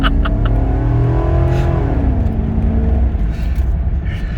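A 1996 Cadillac Fleetwood Brougham engine revs hard and loud accelerating uphill, pitch climbing steadily then dipping as it shifts, close up with a deep rumbling undertone.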